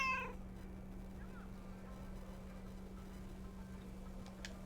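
A single short cat meow sounds at the start, fairly close, then gives way to a quiet room with a steady low hum and a faint tick near the end.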